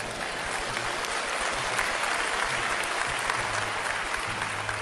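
Sustained applause from an audience at a sermon honoring a missionary, a steady broadband wash of clapping hands that stays even and full throughout, with a low murmur beneath.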